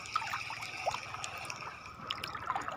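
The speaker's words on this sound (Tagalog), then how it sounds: "May ilog." River water flowing near Pedreng Beach in Bagat, a steady soft trickle and babble close by with faint wind, no voices.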